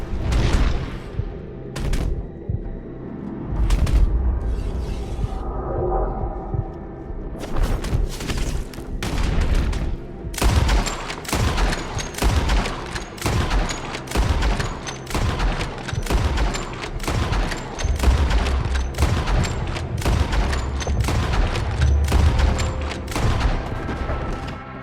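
Gunfire fills a Red Dead Redemption 2 shootout, with scattered shots early and then dense rapid volleys, loud and close over a rumbling background. No voices are heard.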